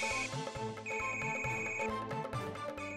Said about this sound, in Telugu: the mobile is ringing inside the statue